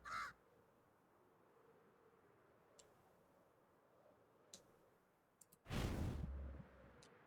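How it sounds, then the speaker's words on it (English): Crow cawing in a Minecraft-style survival multiplayer game: a short, fairly loud burst of calls opens the stretch, followed by faint ticks over a low ambient background and a louder noisy burst later on. "I keep hearing a crow."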